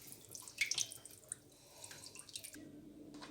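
Chicken pieces are rinsed in water, giving close splashing and dripping with a few louder wet bursts. A tap-like flow comes in near the end. No talk is heard.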